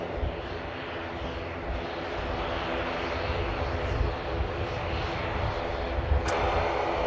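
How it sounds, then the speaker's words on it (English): A Virgin Atlantic A350 airliner landing on the south side of Manchester Airport, heard as a loud, steady, broadband roar of jet engines that holds throughout. "Also at the Virgin Atlantic, A350 touching down on the south side"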